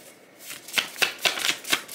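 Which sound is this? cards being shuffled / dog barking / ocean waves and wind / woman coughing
cards being shuffled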